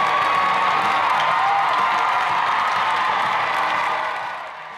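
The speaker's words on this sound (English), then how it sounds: "The crowd erupted as Michelle Obama made her way to the podium." A large rally crowd cheers and roars steadily as Michelle Obama walks to the podium, a dense wall of whoops and applause that holds loud, then eases near the end.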